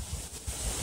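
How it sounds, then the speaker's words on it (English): Strong gusty wind in a windstorm buffets the microphone in a loud, roaring burst that surges again partway through. "the wind, oh, the wind's blowing dust in my eyes"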